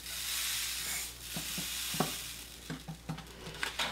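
Red sprinkles scattered over an owl cookie land on a bead tray with a run of light, close ticks and patters above a steady soft hiss.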